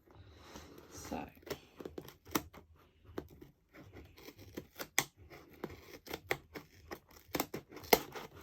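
Scissors snip and crackle through packaging while opening a cactus subscription box, with sharp irregular cuts and rustling close up, and soft whispered talk between them.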